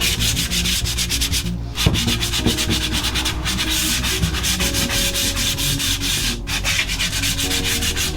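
A scaffold board is sanded by hand, producing a continuous, loud, rapid rasping scrub that barely pauses for the whole stretch.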